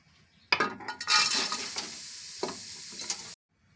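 Grated carrot for gajar halwa drops into a hot pan and sizzles loudly, with stirring scrapes and a sharp clink or two before the sound cuts off abruptly.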